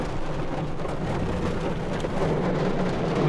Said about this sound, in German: Es blitzt und donnert.